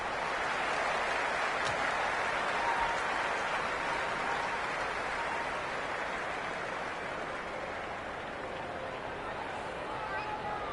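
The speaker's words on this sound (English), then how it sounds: "There's an almost tangible fervour throughout the crowd at the moment." Steady crowd roar and cheering in a Cricket 26 match on PS5, a dense continuous wash of excited stadium noise that holds at a constant level throughout, with no distinct voices standing out.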